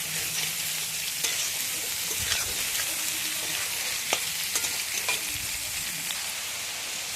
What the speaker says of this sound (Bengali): ভালো করে নেড়ে ছেড়ে নেব।